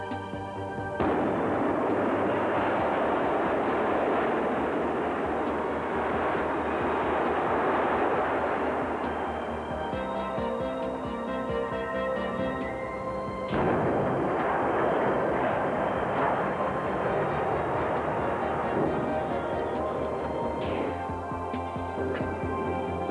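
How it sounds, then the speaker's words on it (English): Controlled explosive demolition of power station boiler structures at the Yallourn Power Station site, heard as a sustained loud, rumbling roar of blasts and collapsing debris lasting over twenty seconds, with a brief dip before a second heavy surge. "Once the structure was prepared sufficiently, it was ready for demolition by the use of controlled explosives"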